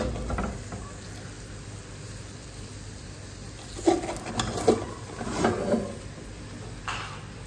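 Mutton biryani is stirred in its pot after the dum is opened, the flame off, giving soft scraping and clinking from the spoon in a few short bursts against a quiet background.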